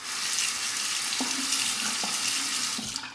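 Water runs steadily from a tap as a razor is rinsed during a Parker 71R shave, a continuous broadband rush with a few brief clinks of the razor knocking against the basin.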